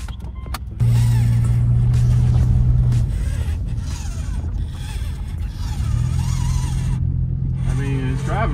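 A car drives along with a low engine hum and road rumble, the drone rising and falling a little, while people talk inside the cabin.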